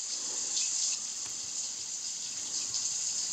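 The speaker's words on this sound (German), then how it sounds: "Dann krieche ich mal unter die Dusche." A shower running in The Sims 3, a steady hissing spray of water that continues evenly and close by without pause.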